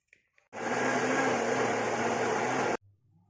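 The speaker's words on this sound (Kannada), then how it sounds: "ಅನಂತರ ಮಿಕ್ಸಿಯಲ್ಲಿ ನೀರು ಹಾಕದೆ ನುಣ್ಣಗೆ ರುಬ್ಬಿಕೊಳ್ಳಬೇಕು." A kitchen mixer grinder blends chopped peeled banana pieces without water, starting abruptly into a loud steady whirring roar that holds for about two seconds before cutting off cleanly, with small clicks before and after.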